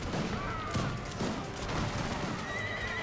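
Musket volleys from a strategy video game battle, soldiers firing into the backs of cavalry, crackle as a dense, continuous fusillade mixed with horse whinnies and hoof clatter, loud and busy throughout.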